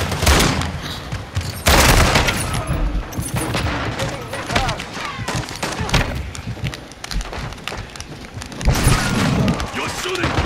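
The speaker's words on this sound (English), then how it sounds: "You're shooting, Bradley." Shotgun fire in a video game mission: loud, repeated booming blasts and rapid gunfire crackle in dense bursts, with excited voices talking over the action throughout.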